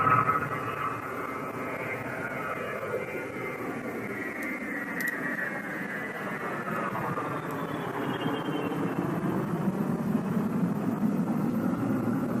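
A fixed-wing airplane passes in its landing pattern, a steady broad engine drone that holds at moderate loudness throughout and swells slightly toward the end, with no voices.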